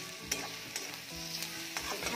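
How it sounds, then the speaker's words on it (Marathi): Cleaned fish pieces go into a pan of frying masala with a continuous hissing sizzle and a few scraping stirs of a spoon, close and moderately loud, with no one talking. "आता आपण ही जी काही मासळी स्वच्छ करून घेतली ती घालणार आहोत"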